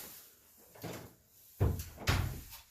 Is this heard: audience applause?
no